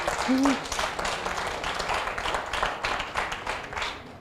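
An audience at a forensic summer school session claps steadily in a moderate round of applause, individual hand claps audible in the wash, with a brief voice near the start.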